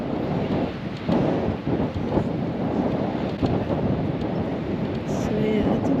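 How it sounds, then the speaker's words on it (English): Wind gusting across a microphone on the Dutch coast near Amsterdam, a loud, uneven rumbling roar that swells and dips throughout. "It's dry, a little windy"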